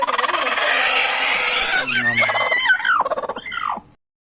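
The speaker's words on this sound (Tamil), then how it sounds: "ஸோ இது எல்லாம் வந்து கோழி வந்து அடை வச்சுட்டு இருக்குது." Country chickens on a poultry farm clucking and squawking, with one bird crowing, close and fairly loud; a continuous chorus of fowl calls fading out near the end.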